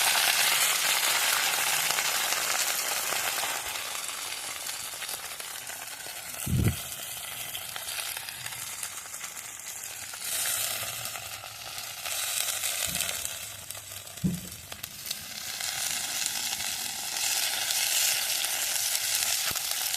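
Red amaranth greens fry in oil with garlic, giving a continuous bright sizzle throughout, broken by a few soft thumps and stirring sounds.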